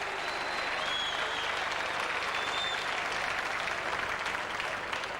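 A stadium audience applauds the Central District team after the 1994 Foundation Cup football final, a dense, steady roar of clapping filling the whole stretch at even volume with faint crowd murmur underneath.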